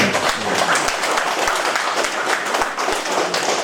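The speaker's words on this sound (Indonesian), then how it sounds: "Tepuk tangan gitu." Audience at a public gathering at a military district command compound in Ruteng, Manggarai, applauding in a steady, dense burst of clapping that continues throughout, with a few sharper individual claps near the front.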